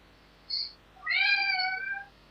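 A cat lets out a short chirp, then one longer, clear meow, heard up close in a quiet room with no voices around it.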